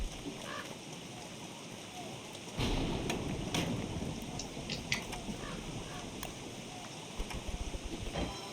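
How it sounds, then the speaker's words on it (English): Steady rain hisses throughout in the video game Don't Starve, with a rumble of thunder rolling in near the middle and a few sharp crackles after, loud and close, with no talking. "Darn rain."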